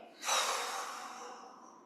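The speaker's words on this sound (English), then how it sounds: "Rubbing the palms together, breathing." Palms rubbing briskly together with audible breathing during a yoga or bodywork session, a soft broad rushing friction that starts abruptly and fades gradually, close and quiet, with no talking.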